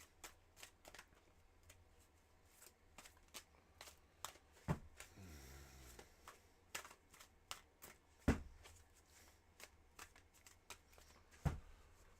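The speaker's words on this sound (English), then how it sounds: "I'm just going to start shuffling." Tarot cards being shuffled up close: a steady run of crisp card snaps and taps, with a longer riffling flutter in the middle and a few sharper knocks as the deck is squared, no talking.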